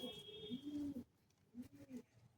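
Pigeons at a pigeon sale in Kolkata coo in two low, soft phrases with a short pause between, close by, with faint background noise.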